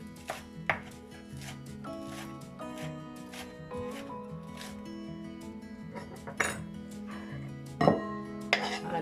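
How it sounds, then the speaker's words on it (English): A knife chops parsley finely on a board in rapid, steady close knocks, punctuated by a few louder clinks of the blade against dishes, under a low background hum. "I will chop parsley finely again."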